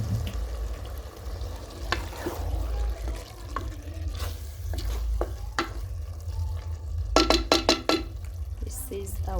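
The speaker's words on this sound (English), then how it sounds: "So our veggies are there cooking." Green vegetables cook in a pan with smoked fish to follow, a continuous close sizzle and stir with scraping utensil strikes, and a burst of sharp clattering knocks near the end.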